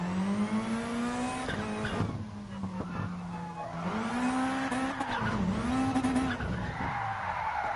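In a GT Sport rally game, a car slides sideways through a Scandinavian flick, with long, loud tire skids and squeals over a droning, revving engine that rises and falls.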